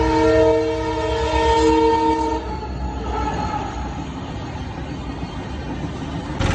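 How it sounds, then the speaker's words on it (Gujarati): A train at a railway crossing sounds a loud, sustained horn, then its wheels and cars rumble steadily past nearby with no voices. "જોઈ શકો છો પાછી ટ્રેન આવી ગઈ છે."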